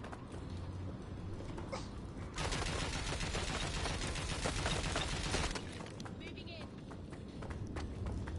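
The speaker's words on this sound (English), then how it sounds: "Shots fired." Gunfire in the game Watch Dogs Legion, a dense rattling burst in the middle after quieter scattered shots, fairly faint and mixed with footsteps and a voice talking.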